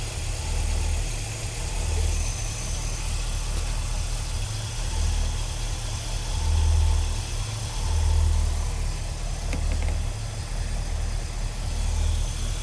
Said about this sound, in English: I hear a little bit of a bearing noise.